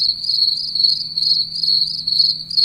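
Crickets chirping steadily, played back through a Windows Phone app: a continuous, evenly pulsing high trill at moderate loudness with no talking.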